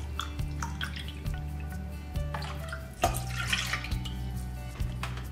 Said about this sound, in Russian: Теперь я беру растительное молоко. Так, и отправляю 3 мультистаканчика.